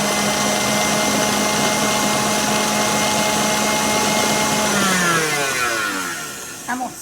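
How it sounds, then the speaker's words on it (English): Electric mixer whipping chocolate meringue pie filling with vanilla, a loud steady motor whine that holds for several seconds, then slows and winds down, pitch sliding lower before it stops. "we're going to blend it up until it's all mixed in"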